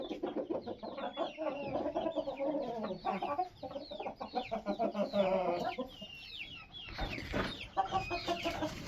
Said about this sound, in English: More roosters kicking around than we know what to do with.